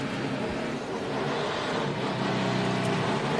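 NASCAR stock cars roll through a pace lap at Charlotte during the 2011 Bank of America 500, a steady, distant drone of engines washing over the track with a slight rise in pitch, continuous and without talk.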